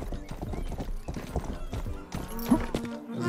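A horse in the video game Rustler clip-clops at a steady trotting rhythm, repeated hoof strikes close and clear, with a whinny near the end.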